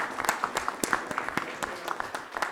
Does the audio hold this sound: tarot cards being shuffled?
no